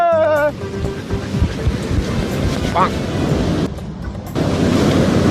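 Ocean surf rushes steadily, a loud continuous wash of breaking waves with wind buffeting the microphone and a brief voice-like sound early on.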